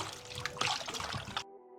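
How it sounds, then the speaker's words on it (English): Tap water running and splashing while raw chicken is rinsed in a sink, a close continuous trickle and spatter that cuts off abruptly at the end. "We're rinsing this chicken properly"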